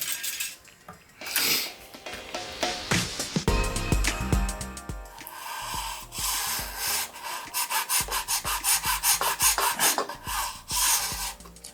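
A file rasping down the high nut of an Epiphone Les Paul guitar, with loud, close, steady back-and-forth scraping strokes in quick rhythmic runs throughout, and some metallic ringing from the strings.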